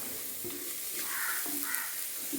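Chicken biryani masala mixed with curd is stirred in a pressure cooker: a few soft, close scraping strokes over a faint, steady sizzle.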